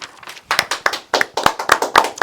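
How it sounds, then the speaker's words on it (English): A few extras at the back of a small chamber of commerce talk-show set clap their hands. The claps are sparse and irregular, fairly close and distinct, and no one speaks over them. "Round of applause from our extras in the back there."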